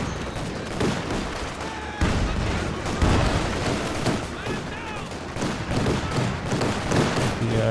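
Anti-tank guns and other weapons fire during a Company of Heroes 2 battle, a dense stream of overlapping thumps, booms and rattling gunfire with constant battle noise and talk over it.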